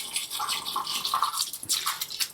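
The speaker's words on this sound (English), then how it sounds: "pour this in the tank until it" Distilled water pours steadily into a film developing tank, a continuous close trickle and splash with small bubbling variations.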